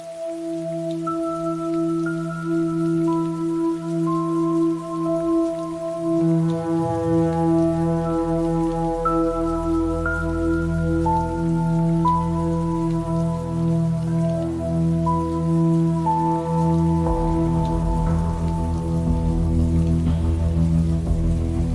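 Steady rain falls softly, a continuous even hiss lying beneath sustained, slowly shifting musical tones that dominate the mix.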